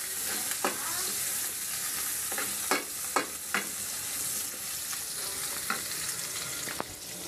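Garlic, onion and tomato sauté in hot oil for sarciadong galunggong, with an even, close sizzle and scattered spatula clicks and scrapes against the pan.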